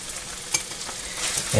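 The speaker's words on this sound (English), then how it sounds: "give them a good stir with the sauce here, the mixture of the chipotle peppers in adobo sauce and garlic" Rinsed canned black beans get stirred into a chipotle-in-adobo and garlic sauce, a brief crackling sizzle with a few spoon scrapes and a louder stir at the end.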